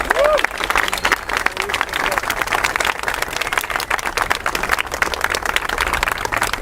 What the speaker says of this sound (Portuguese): Quem merece aplauso aqui é ele